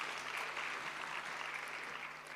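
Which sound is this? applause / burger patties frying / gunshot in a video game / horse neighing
applause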